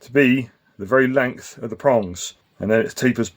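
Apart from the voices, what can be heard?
No everyday noise stands out behind the speech.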